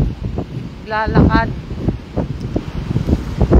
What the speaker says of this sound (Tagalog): Ano na, tinatangay ako ng hangin.